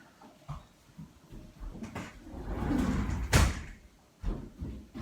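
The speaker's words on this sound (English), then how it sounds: "So I'll just close the door, hang a tick." A door swings and shuts with a solid thud, surrounded by rustling and wind-like noise and a few softer knocks.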